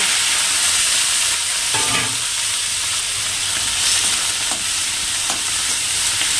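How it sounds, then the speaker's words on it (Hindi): Onion and green chili dropped onto garlic cloves browned in hot oil, producing a loud, continuous close sizzle and hiss, with a few faint stirring clatters partway through. "फिर डालूंगी इनमें प्याज और हरी मिर्च।"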